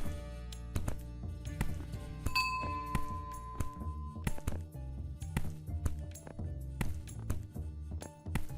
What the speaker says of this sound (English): This ringing bump in the carpet is weird.